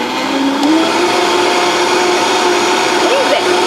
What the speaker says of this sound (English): You can put it back on your blender